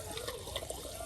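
Water runs steadily into a clogged sink drain, a close continuous splashing and gurgling wash at even loudness with no talk.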